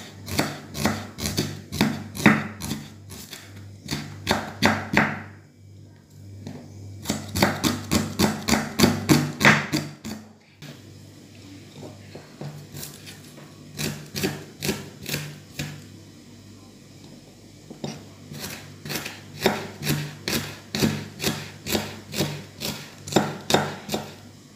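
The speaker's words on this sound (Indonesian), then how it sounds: "Kita iris bawang merahnya." A knife slices shallots on a wooden board for Balinese jukut undis, a home-cooked vegetable dish. Rapid, steady chopping taps run in long bursts separated by short pauses, close and crisp.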